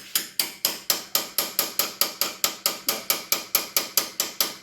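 A hammer taps rapidly and evenly on a stud extractor gripping a broken cylinder head stud on a 1978 Porsche 911 SC, with about twenty bright metallic strikes in a steady, close, unbroken rhythm.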